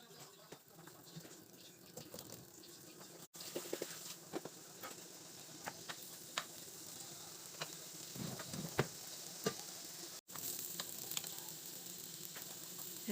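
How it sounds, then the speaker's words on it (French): Potato quarters fry in a pan with oil and butter, giving a faint, steady sizzle with scattered small crackles and pops throughout and no voices. "je fais revenir mes quartiers de patates à la poêle avec un peu d'huile et un peu de beurre"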